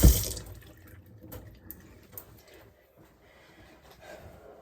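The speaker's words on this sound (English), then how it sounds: "And then I'm just going to go in and do my second rinse and get ready to condition my hair." Water running from a shower or tap while hair is rinsed, a soft, uneven splashing wash after an initial louder burst, fairly faint and without talk.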